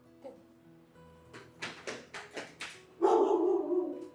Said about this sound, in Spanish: Me está correteando el perro, mami.